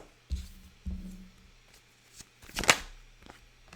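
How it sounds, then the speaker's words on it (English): Tarot cards are pulled out and shuffled up close, with a couple of soft thumps followed by a quick, riffling flutter, in an otherwise quiet room. "let me pull the cards out for you"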